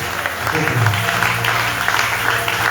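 A church congregation claps and acclaims Jesus, with dense, continuous applause close around and a low murmur of voices underneath.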